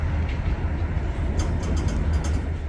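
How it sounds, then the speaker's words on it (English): A freight train hauled by Union Pacific locomotives rolls past with a steady, loud low rumble and faint squeals of wheels on rail, no talk. "The train with Union Pacific Power started continuing west."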